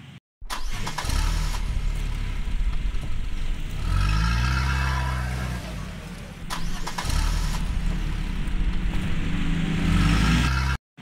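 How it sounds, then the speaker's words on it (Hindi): A car pulls up outside a house in an Indian village as guests arrive, its engine rumbling steadily and loudly close by, with a rise and shift in tone midway as it slows and settles. "अरे ये तो किसी गाड़ी की आवाज लगती है, लगता है लड़के वाले आ गए हैं।"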